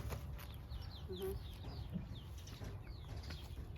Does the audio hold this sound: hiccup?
no